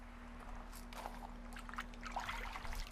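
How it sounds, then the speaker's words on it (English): A baking soda tanning solution fizzes and bubbles in reaction to acid as hides are dunked in, a soft continuous crackling trickle under a steady low hum. "you can hear that baking soda mixture bubbling from all that acid"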